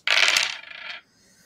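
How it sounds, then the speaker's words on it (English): Handful of five dice rattling and tumbling onto a table during a Vaesen tabletop RPG session, a dense clattering burst about a second long that settles quickly into quiet. "I rolled 5 dice with no successes."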